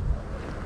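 Wind gusts buffet the microphone at a swamp during a fishing outing, giving a brief, low, rumbling whoosh with no voices.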